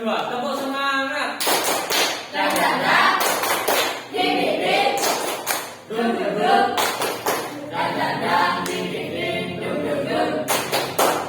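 Classroom group in Indonesia doing a second round of the patterned 'tepuk semangat' clap, repeated bursts of loud, crisp claps in a set rhythm with shouted chanting woven through.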